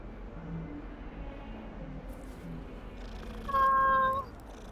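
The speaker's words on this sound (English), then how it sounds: "There's a kitty." A cat in Hogwarts Legacy gives a short, clear meow near the end, rising briefly over a quiet game backdrop of soft ambient hum and faint background sounds.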